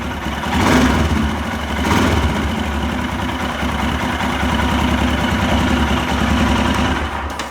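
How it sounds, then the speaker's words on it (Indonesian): A Royal Enfield Himalayan motorcycle engine idles loud and close with a steady low thumping beat, swelling slightly as the throttle is blipped, alone without speech. "Kita dengar suara rotasi mesin ya. Tuk tuk tuk tuk."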